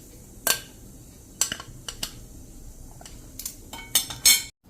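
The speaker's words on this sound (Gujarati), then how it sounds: "હવે એને આપણે એક વાસણમાં નિતારી લેશું આ રીતે ઝારામાં જ" Soaked chillies being drained through a metal slotted ladle into a vessel, heard as a series of close, bright metallic clinks and scrapes spaced irregularly over a low background. No one speaks.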